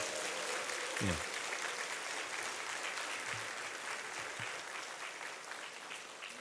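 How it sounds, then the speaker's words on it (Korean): A church congregation applauds during a Sunday sermon, a steady wash of clapping that holds for the whole stretch at a fairly soft, distant level and tapers slightly toward the end. "뜨거운 박수 해주시기 바랍니다"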